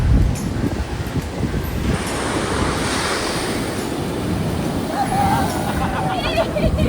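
Strong wind roars across a beach lined with trees, buffeting the microphone in a steady low rumble over distant surf, while faint voices from a nearby photoshoot murmur in the background.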